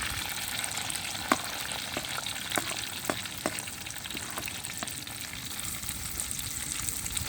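Crushed onion frying in a pan gives a steady, close sizzle with scattered sharp pops and clicks from stirring, and no voices.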